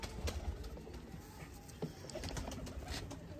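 Pigeons in a breeding setup cooing softly, low repeated throaty calls against faint background noise and a high steady whine, with occasional light rustles nearby.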